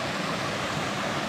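Steady broadband rush of a waterfall on the Appalachian Trail near Stratton Mountain, close and continuous without a break, with no voices over it.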